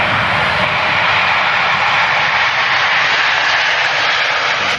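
A Singapore Airlines airplane engine in a video game gives off a loud, steady jet roar that holds evenly throughout with no pauses.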